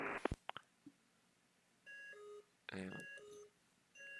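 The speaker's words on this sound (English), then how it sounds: "now it's going to beep at me for a while to remind me that I have a conflict" Conflict alert in VATSIM air traffic controller radar software for Vancouver Centre, sounding as repeated electronic beep tones in sustained bursts after a few short clicks, moderately loud and separated by brief silences.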